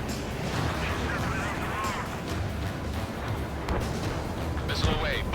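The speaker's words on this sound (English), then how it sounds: "Missile away." Missile launches and explosions in the combat flight game Ace Combat 7 with an A-10, a continuous roar of booms and rushing blasts throughout, with a radio voice talking over it.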